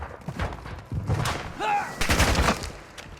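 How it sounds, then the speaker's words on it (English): Rapid gunfire bursts crackle in a Call of Duty MWII battle, mixed with radio-style voices and game announcements over busy combat noise. "You are taking effective fire."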